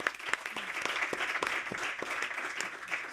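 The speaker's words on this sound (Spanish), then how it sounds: "Isabel y Armin, merecéis un gran aplauso" An audience at a book presentation event gives warm applause to two speakers. The sound is dense and sustained, with distinct individual claps standing out, and it stays at a moderate distance.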